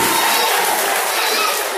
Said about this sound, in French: On applaudit, on applaudit, on applaudit, on applaudit.